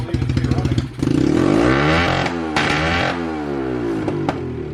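A motorcycle engine with an FMF exhaust runs loud and close, settling from uneven revving into a steady idle with a few sharp blips, while someone talks over it.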